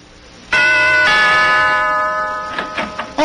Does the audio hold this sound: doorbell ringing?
yes